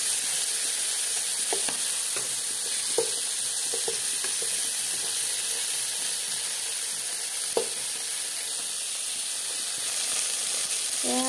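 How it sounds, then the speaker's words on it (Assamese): Koi fish frying in a pan of oil makes a constant, even sizzle, with occasional soft clinks and stirring taps over the bubbling. "মই মাছখিনি তেলত দিলো। এয়া ফ্ৰাই কৰি লৈছো।"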